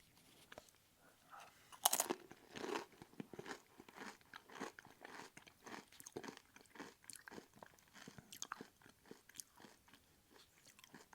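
A Doritos chip loaded with Spicy Nacho dip is bitten and then chewed, with close, crisp crunches repeating steadily and one sharper snap near the start.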